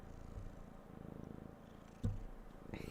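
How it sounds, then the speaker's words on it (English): A pet cat purrs softly while sitting on a lap, a faint low rhythmic rumble close to the microphone with a brief louder bump partway through. "Purr. He's purring."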